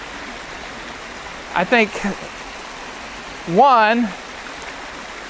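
Waterfall and stream at Saw Mill Branch, Maryland, a steady close rushing hiss of flowing water throughout, with someone speaking briefly twice over it.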